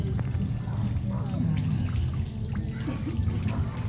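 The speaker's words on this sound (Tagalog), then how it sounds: "Shower na mo, China." Water runs steadily from a shower, a continuous splashing stream, while people talk over it.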